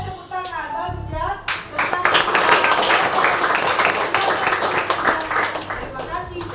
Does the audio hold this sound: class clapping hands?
yes